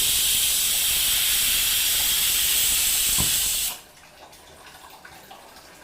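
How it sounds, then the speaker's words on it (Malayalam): A pressure cooker whistle releases a loud, steady hiss of steam for several seconds on high flame, then cuts off abruptly, leaving a quiet room with faint clicks. "അപ്പോൾ അതേ ഹൈ ഫ്ലെയിമിൽ വെച്ചിട്ടുണ്ട് വിസിലും വന്ന് നമുക്കിത് ഓഫ് ചെയ്യാം"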